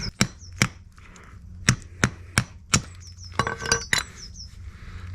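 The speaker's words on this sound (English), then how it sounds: "You need to tap out with a hammer." Sharp metallic hammer taps on an Audi TT locking wheel bolt ring out at uneven intervals, about a dozen strikes, some in quick pairs, close and clear against a quiet background.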